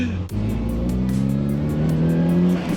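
A turbocharged Daihatsu Copen engine drones steadily nearby, pitch climbing as it accelerates, with a rhythmic pulsing whoosh over the motor.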